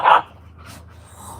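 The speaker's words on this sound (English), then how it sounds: "she has that big of a bark for a pup." A puppy gives one short, loud, close bark, followed by quiet room noise.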